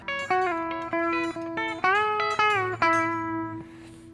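A guitar plays a short country lick, strings plucked with the fingers for a series of bright, separate notes with a quick run and ringing ends.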